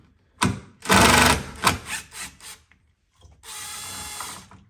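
A 10mm socket ratchets a nut off a BMW tail light assembly, giving close bursts of rapid mechanical buzzing and clicking, one long loud burst, several short ones, then a quieter steady run after a brief pause.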